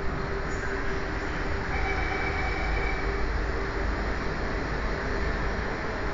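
An MRT train rumbles and hisses steadily as it pulls away from Kranji station in Singapore, with a faint high whine from the motors building over the continuous rolling noise.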